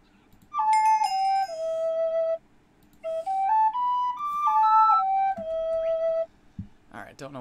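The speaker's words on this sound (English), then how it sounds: "Bam, eagle whistle." Eagle whistle item in the Minecraft modpack Divine Journey 2 sounds as two clear, loud whistled phrases of stepped falling and rising notes, separated by a short pause, with a brief noisy burst at the end.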